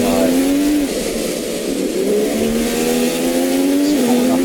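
An F1 race car engine in the F1 2015 racing game revs high and steady, its pitch rising through the gears with brief drops at each shift, loud and close throughout with no talk.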